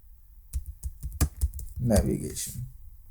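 Computer keyboard keys tapped to type a short title in test-management software, a quick run of separate clicks followed by a denser burst, with a voice speaking in the middle.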